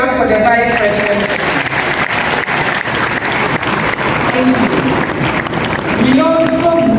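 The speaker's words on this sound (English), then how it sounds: "Let's clap for the Vice President" An audience claps steadily for the Vice President at a KNUST university ceremony in Ghana, a dense sustained round of applause with voices and a crowd murmur running beneath it throughout.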